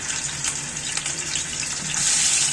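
Katla fish frying in hot oil in a pan, a loud steady sizzling hiss that swells and grows brighter toward the end.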